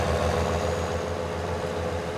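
A tractor engine idling in Farming Simulator 19, a steady low rumbling drone with even pulsing, loud and continuous throughout, with no talk.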